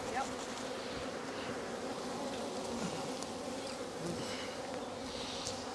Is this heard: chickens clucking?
no